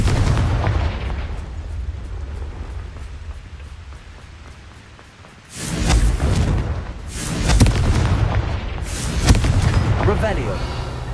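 A Confringo spell explosion in a video game, loud blasts bursting out after a quiet stretch, with several heavy booms following in quick succession.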